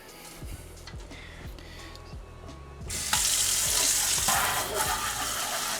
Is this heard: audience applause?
no